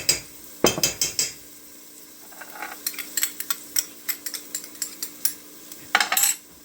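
A spoon stirs fish soup with red pepper paste in a pot, giving a string of sharp metallic clinks and scrapes in irregular bursts over a faint simmer, close and without talk.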